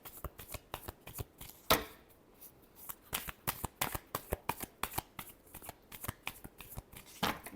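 Tarot cards are shuffled by hand close by, a run of crisp slaps and riffles in an uneven rhythm with short pauses, fairly quiet.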